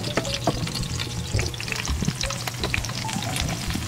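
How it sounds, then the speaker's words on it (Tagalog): Squash frying in a small amount of oil in a pan, a dense close sizzle with crackles and occasional utensil clinks and stirring sounds, continuous throughout with no talk. "Tapos yan guys, salang natin yung kalabasa."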